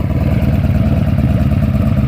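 A Honda Magna motorcycle engine fitted with new Emgo mufflers runs close and loud, its throbbing exhaust pulsing in a fast even rhythm with a deep low rumble throughout.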